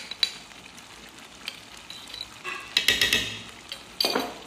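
Ginger and garlic being stirred into tomato chutney in a pan, giving soft sizzling under scattered scraping and clinking of a spoon against the metal, with a few louder stirring strokes near the end.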